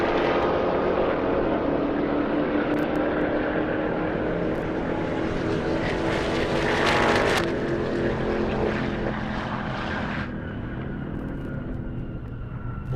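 Audi RS3 and Jeep Trackhawk launching side by side at a half-mile airstrip drag race, a loud sustained engine roar that builds and holds, with a brighter rising burst midway before easing to a steadier drone.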